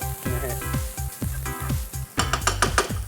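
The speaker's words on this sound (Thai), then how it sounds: "เราใช้ไฟแรงตลอดเวลาครับ ใส่ข้าวลงไปครับ" Busy sizzling of rice stir-frying in a hot pan over high heat, with rhythmic scraping and tossing strokes and a few metallic clinks, loud and close.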